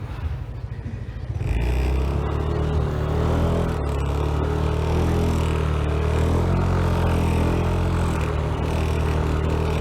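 Yamaha Mio Aerox 155 scooter stuck in soft sand, its engine revving steadily and loudly at close range with a gritty rumbling texture, rising in intensity after a brief quieter start.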